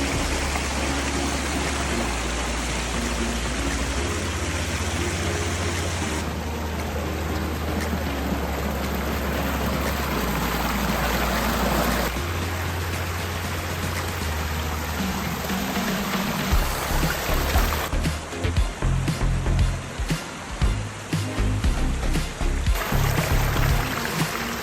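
Water rushing steadily at a river reservoir near the foot of a 100-foot waterfall, a broad continuous wash that turns rougher and more turbulent toward the end, heard alone without talk.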